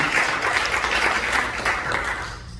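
A church congregation at a pastors' spiritual seminary applauds loudly and continuously, many hands clapping in a thick, even roar that fades slightly toward the end.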